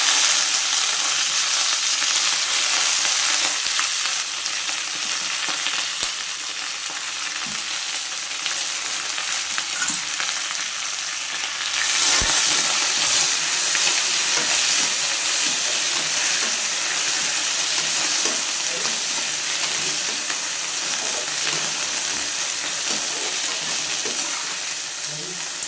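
Curry leaves crackle and sizzle in hot oil while being stirred for curry leaf rice, a steady, loud, dense hiss throughout with brief scraping stir sounds and a short burst near the middle.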